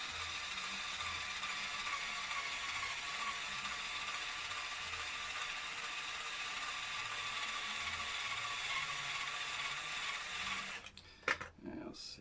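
Vintage split-post guitar tuners being tightened give a steady, fine ratcheting whir of gears that runs close and even for most of the clip, then breaks into a few sharper clicks and knocks at the end.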